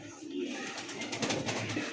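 Pigeons coo at a busy pigeon market, a low, throaty burbling heard close by, with voices murmuring in the background.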